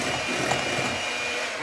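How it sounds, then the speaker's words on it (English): Hand mixer whipping cold heavy whipping cream for a small batch of sugar-free frosting, a steady high-pitched electric whir running close and continuous throughout. "I don't mind a hand mixer."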